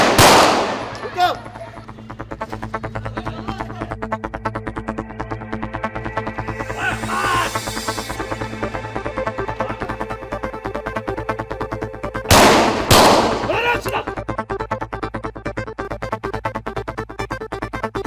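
Rapid bursts of gunfire ring out in a crime drama police shootout, sharp volleys early and a loud cluster near the end, over a steady background score with voices.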